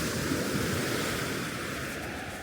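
Steady surf washes onto a quiet beach, a continuous broad roar of breaking waves mixed with wind buffeting the microphone, with no voices.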